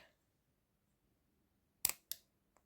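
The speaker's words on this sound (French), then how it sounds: "Je vais couper le fil." Scissors snipping crochet yarn: two quick close snips in succession, then a faint click, in an otherwise quiet room.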